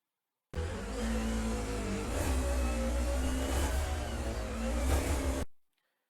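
A car engine in a racing game on the Hakone Nanamagari mountain course, revving loudly and steadily with pitch shifts as it downshifts, then cutting off abruptly into silence.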